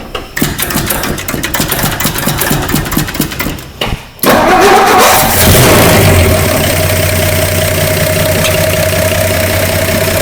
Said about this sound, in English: we need to crank on that key and see if this thing will start